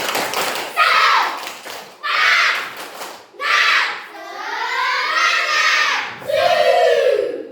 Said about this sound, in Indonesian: ayo kita melakukan ice breaking, tepuk semangat